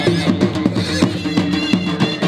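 A horse whinnies at a horse dance festival amid a loud, dense mix of music and crowd noise, the neighing buried in the busy, continuous din.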